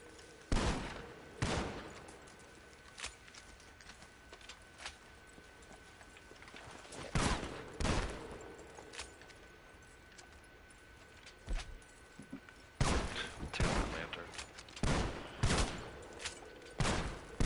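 Gunfire in the Western game Red Dead Online, aimed at a moonshine still: scattered loud individual shots and short rapid bursts spaced irregularly over a quiet background.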